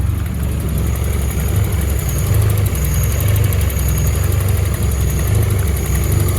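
Nissan 240SX with a KA24E engine idling on its first start after new ID1050XDS injectors were fitted, running rich; a steady, low rumbling idle with an even pulse, close and loud throughout.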